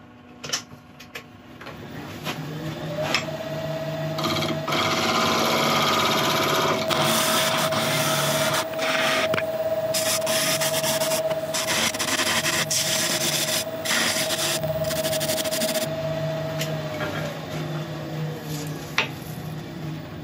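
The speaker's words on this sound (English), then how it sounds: "But I'm just going to quickly get the gouge now." Yew wood spinning on a lathe while a gouge cuts it: a steady motor hum and whine that ramps up, holds for about fifteen seconds with a rough scraping cut over it, then winds down.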